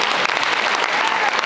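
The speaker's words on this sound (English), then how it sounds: "let's give one more round of applause to Riley Banner" Loud, continuous crowd applause filling a high school gymnasium at a National Signing Day event, a steady dense wash of clapping from start to finish.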